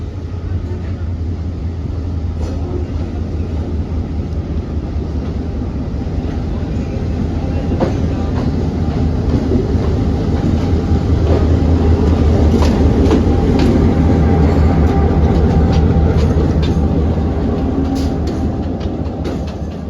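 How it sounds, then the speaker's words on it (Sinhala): A locomotive runs alone on the line in Sri Lanka, its engine giving a loud, steady rumble with a continuous low drone and faint rhythmic rail clatter throughout, close and unbroken. "නෑ ගයිස් එන්ජින් විතරක් යනවා"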